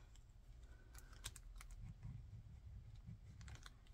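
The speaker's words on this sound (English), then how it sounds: "See how it takes ballpoint." A ballpoint pen writes on sticker paper: soft close scratching and light tapping clicks over a faint low hum, with no one speaking.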